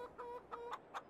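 Chickens in the farming game Farming Simulator 22 give a short run of soft, rhythmic clucks, faint and close, with no talk over them.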